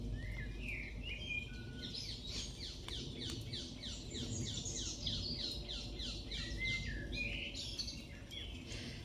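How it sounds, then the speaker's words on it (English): Wild birds sing outdoors in rapid repeating trills and chirps that layer over one another, moderately faint over a low steady ambient rumble, with no voices. "Have you ever stopped to really absorb and listen to bird song?"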